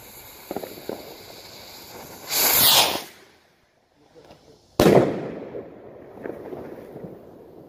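New Year's Eve fireworks go off at close range: a hissing, crackling burst, then a sharp loud bang followed by smaller pops, with faint background noise between.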